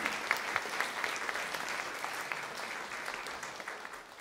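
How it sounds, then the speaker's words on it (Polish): An audience at a music school's end-of-year concert applauds steadily, a dense even wash of clapping from many hands with scattered sharper individual claps, moderately distant and continuing throughout. "Ale naprawdę wielkie brawa"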